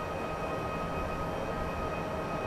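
NS DDZ double-deck electric train in Train Simulator 2014 running fast through a sharp curve, a steady rumbling roll with constant cab hum and wheel noise, continuous and even throughout.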